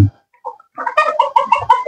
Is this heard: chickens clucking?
yes